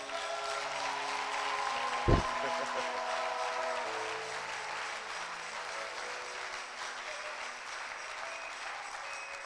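A congregation applauding and cheering during a French-language church sermon: sustained, dense clapping with a brief low thump near the start, easing off gradually toward the end.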